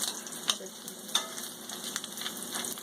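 Bacon frying in a pan for shrimp and grits gives off a steady close crackling sizzle, with sharp pops of grease bursting now and then.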